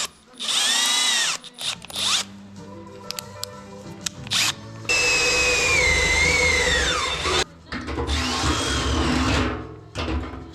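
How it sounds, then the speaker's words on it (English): A power drill bores into a metal barrel being built into a stove, loud and close, with several whining bursts that rise and sag in pitch as the bit bites, broken by brief pauses. "Okay, I think I found a drill bit."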